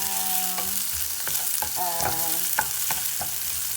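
Sautéing in a pan for Filipino mongo with vegetables, a continuous close sizzle broken by light, regular spatula taps and scrapes against the pan.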